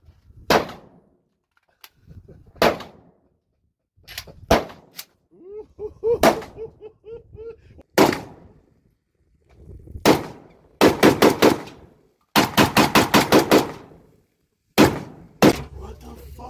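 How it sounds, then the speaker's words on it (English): Loud, sharp gun blasts ring out one after another, some singly and some in rapid bursts, with short gaps of quiet between them. "It's a shotgun."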